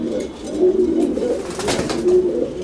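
Pigeons cooing in a breeding loft, repeated low throaty coos rising and falling steadily and fairly close, with a brief brighter rustle partway through and no talk.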